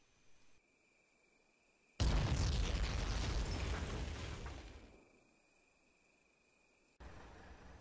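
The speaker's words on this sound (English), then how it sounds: "The attack begins with M Company's 81mm mortars." A barrage of 81mm mortar explosions in the World War II game Combat Mission, striking a highway along a ridge in Italy: a sudden loud broadband roar that holds for about three seconds before tailing off, with another burst near the end.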